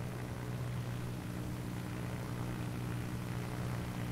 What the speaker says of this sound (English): I can hear the plane.